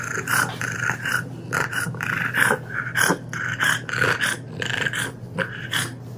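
A brachycephalic dog with airway obstruction snorts and wheezes in repeated rough, congested breaths, close and loud, a steady labored rhythm with no pauses.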